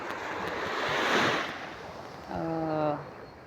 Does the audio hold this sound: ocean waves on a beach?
yes